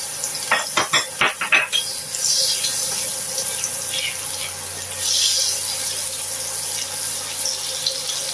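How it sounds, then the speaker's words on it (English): Butter melting and sizzling in a pot for garlic butter chicken, a steady close hiss and crackle that runs throughout, with a few brief knocks near the start. "So on this same pot, we are going to add our butter. We allow it to melt."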